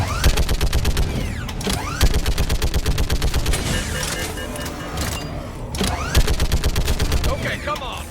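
A death turret in Mass Effect 3 fires long, loud bursts of rapid automatic shots at enemies, with a short pause midway before the rattling stream resumes, backed by game sound effects.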